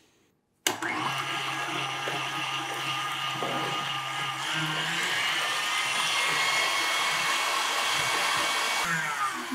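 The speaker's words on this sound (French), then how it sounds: "Donc, je monte ça en neige." An electric hand mixer whips egg whites to stiff peaks for a meringue, a loud steady whirring motor that starts abruptly and runs continuously with rising intensity, without any talking.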